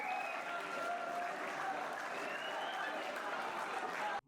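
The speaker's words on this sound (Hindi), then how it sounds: "आप सबकी भरपूर तालियों में" Dense, sustained applause from a large audience at a live poetry gathering, steady and loud for about four seconds before cutting off abruptly.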